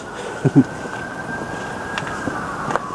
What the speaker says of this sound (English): There's some sirens going off now